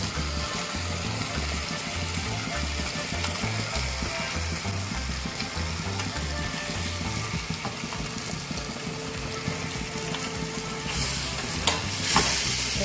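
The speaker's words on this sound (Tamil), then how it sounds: "இது எல்லாத்தையுமே நல்லா இந்த மசாலாவோட மிக்ஸ் ஆகிற அளவுக்கு கிளறி விட்டுருவோம்" Chicken frying in masala being stirred in a pan, a steady close sizzle with repeated scraping and stirring strokes throughout, ending in a few brighter clatters.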